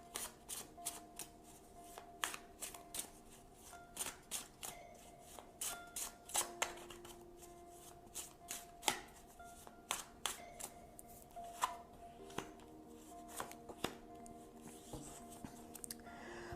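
Tarot cards being shuffled, handled and drawn up close, with soft rustling broken by repeated crisp snaps and slaps of cards, quiet and close, with no talking.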